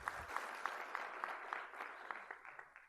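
An audience at a city manager swearing-in ceremony applauds in a sustained, fairly faint wash of clapping with a few sharper claps standing out, tapering off near the end.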